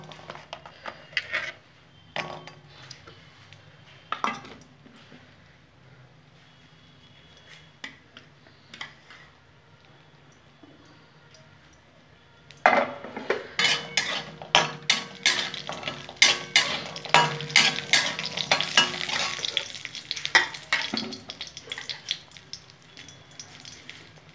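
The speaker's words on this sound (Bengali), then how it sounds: "তেলের মধ্যে বড়িগুলো ভেজে নেব" Ash gourd lentil dumplings (bori) frying in oil for a North Bengal boroli fish dish, heard as quiet sporadic clinks for the first half and then a loud, dense, steady crackle with utensil scrapes and taps.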